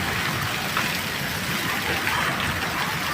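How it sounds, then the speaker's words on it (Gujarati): Heavy rain pours down without letup during a windstorm, a dense, even hiss of water drumming on surfaces close by, steady throughout with no voices. "ભૂકા કાઢી નાખે એવો જ વરસાદ છે આ"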